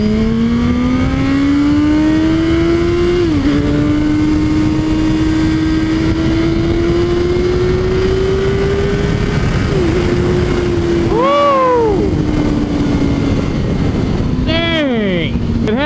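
A 2017 Suzuki GSX-R 1000R sport bike engine accelerates hard and loud, its pitch climbing steadily through several gear changes, with brief dips at each shift and a final shift near the end.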